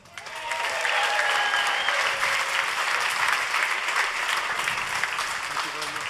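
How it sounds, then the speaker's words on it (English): Loud, sustained applause from an audience greeting Bugatti's chief test driver at the historic Bugatti site in Molsheim, France, clapping steadily throughout and tapering slightly at the end. "a big applause for the fastest man on the road"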